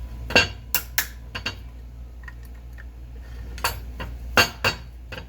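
A hammer taps a screwdriver into the slots of a screw head, giving several sharp, bright metallic clinks at irregular intervals, close and fairly loud over a quiet room.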